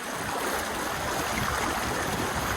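A river flowing, a dense, continuous rushing wash of water that stays even and fairly close throughout, with no voices over it.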